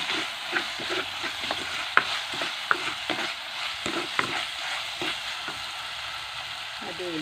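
Crushed garlic and ginger sauté in hot oil for a Wayanad-style crab roast, frying steadily close by while a spoon stirs and scrapes at irregular intervals, with no one speaking.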